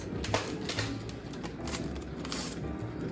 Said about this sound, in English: it is the dishwasher. It is super loud